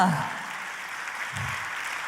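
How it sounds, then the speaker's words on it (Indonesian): A church congregation applauds during a sermon, giving a sustained spread of clapping that follows a brief spoken word at the start. "tepuk tangannya boleh yang paling meriah buat raja di atas segala raja"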